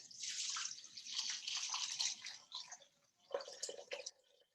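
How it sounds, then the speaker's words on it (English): Hot water is poured for a botanical facial cleanse with essential oils. It splashes and trickles quietly in two bursts with a short pause between them, close and soft. "now I'm gonna add my hot water"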